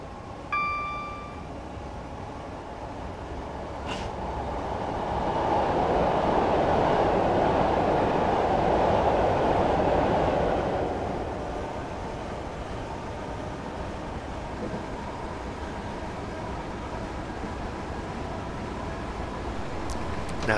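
A Class 4 electric passenger train coasts with power off on the Coulsdon Town to London Victoria route in Train Simulator 2015, giving a steady rolling rumble that swells louder midway, then eases back to a low, even hum.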